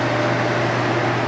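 A hooded salon hair dryer drying a wig gives off a steady, loud whooshing drone with a low hum underneath, continuous and unchanging throughout.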